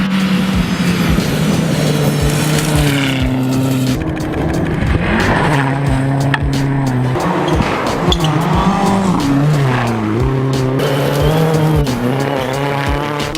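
A rally car being driven hard during pre-event testing for the 2013 100 Acre Wood Rally, its engine loud and close, rising and falling through repeated gear changes and revs, with occasional tire scrabble.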